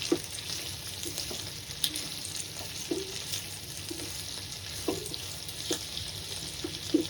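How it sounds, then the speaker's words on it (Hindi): Mixed vegetables for a dum veg biryani fry in oil in a pan with a steady close sizzle, and a few soft scrapes and taps of stirring come through at irregular points over several seconds. "चलिए सबको अच्छी तरह से हम थोड़ा फ्राई कर लेते हैं पहले।"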